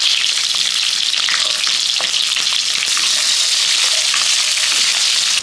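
Brinjal pieces frying in hot oil in a heated kadai for a prawn coconut milk curry, a dense, loud, continuous sizzle heard up close with no voices.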